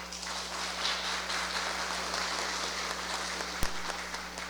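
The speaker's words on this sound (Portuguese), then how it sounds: "Luciano e Laudiene, uma salva de palmas para eles" A crowd at a parish festival for Saint Sebastian applauds the hosts in steady, sustained clapping that holds evenly throughout, with no voices over it.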